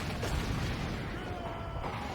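Artillery fire in the video game Total War: Warhammer, Doom Diver catapults firing in a battle, a dense rumbling wash of booms and pops heard at a steady level.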